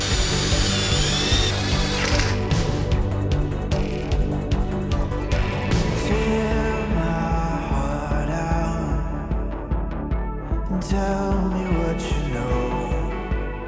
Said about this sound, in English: we're gonna go ahead and screw these guys together real quick, screw them to the wall